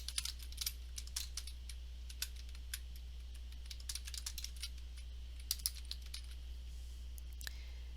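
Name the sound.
typing a title on a computer keyboard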